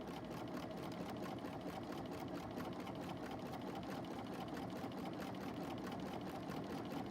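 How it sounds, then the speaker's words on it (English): A sewing machine stitches a buttonhole in fabric, a continuous fast, even mechanical whirr of the needle that runs steadily and close for the whole stretch, without voices. "it's going to go up the other side of your buttonhole, and it's going to complete the other side of it"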